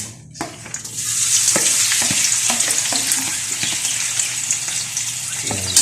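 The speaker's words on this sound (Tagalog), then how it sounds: "nagpainit na ako ng mantika, guys. So, salang natin muna yung hotdog" Hotdog frying in hot cooking oil gives a steady, loud sizzle with bubbling hiss and a few clinks of stirring, filling the whole stretch with no talk.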